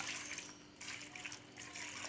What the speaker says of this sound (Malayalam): സ്വല്പം വെള്ളം കൂടെ ഒഴിച്ചു കൊടുക്കുക